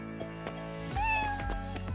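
A kitten meows clearly, with a few short cries followed by a louder drawn-out mew near the middle. The calls are close and carry over faint background sound, with no talking.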